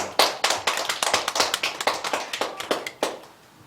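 A church congregation at a Sunday worship service claps, a lively run of close, sharp handclaps that fades out at the end, with no voices over it.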